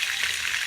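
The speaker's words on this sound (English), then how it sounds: "while the mushroom is frying" Mushrooms fry in hot oil with a steady, dense sizzle that holds evenly close up for a brief moment, without any voices.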